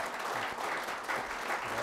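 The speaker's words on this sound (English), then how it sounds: "Please give both gentlemen a round of applause." An audience at a Richard Nixon Presidential Library author talk gives a round of applause, a brief continuous burst of many hands clapping, fairly distant and even in level.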